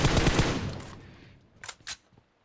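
Gunfire in the mobile battle royale game PUBG Mobile: a dense, rapid burst that fades, then two quick, sharp pops, with no talking.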